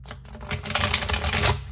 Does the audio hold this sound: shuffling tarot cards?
yes